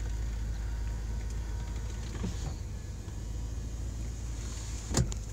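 Power windows on a 2006 Bentley Continental Flying Spur run with a faint, steady motor whir over low cabin rumble, ending in a soft thunk as the glass seats.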